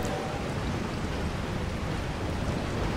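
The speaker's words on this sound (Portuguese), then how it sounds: "A chuva retornou." Steady rain returning over the village in Resident Evil 4 HD Project on PC, a dense even hiss with no break, fairly loud and alone.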